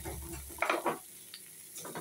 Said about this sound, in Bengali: এই মাছটাকে একটু ভালো করে ভাজবো, কারণ এটা টাটকা মাছ তো, বেশি ভাজবো না, অল্প ভাজবো।